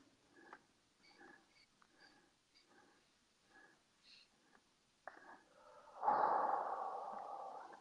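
Eight short segmented sniffing breaths of Kundalini yoga breathing come in a steady, quiet rhythm, followed by a long, loud exhalation close to the microphone.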